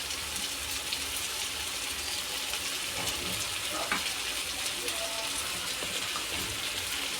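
Cooked rice tipped into a pan of vegetables that have cooked for two to three minutes for Maggi-style fried rice, giving a steady soft sizzle and watery hiss throughout with a few faint clinks.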